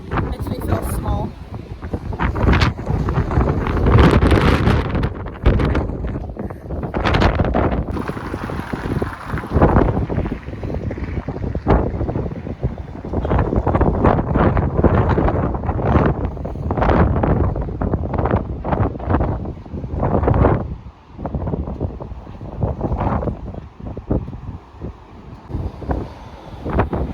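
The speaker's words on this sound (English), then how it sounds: "love being pushed around by the wind" Strong wind batters a high viewpoint over the Columbia River Gorge in Oregon, with loud gusty roaring and microphone buffeting that surge and ease throughout.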